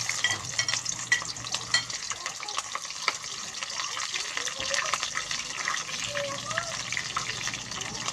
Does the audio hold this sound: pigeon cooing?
no